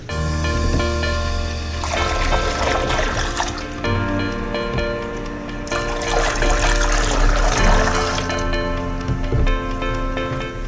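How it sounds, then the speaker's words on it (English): Water pours steadily from a 5-gallon bucket into the sump of a 33-gallon long planted reef tank, a continuous splashing trickle that swells and eases over about ten seconds, close by with no talking. "This is a 5-gallon bucket, so this will last me about 2 weeks if I didn't fill this up completely."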